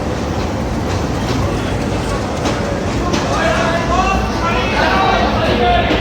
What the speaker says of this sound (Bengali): 61-16 লোকোমোটিভ নিয়ে প্রবেশ করলো স্পেশাল ট্রেনটি।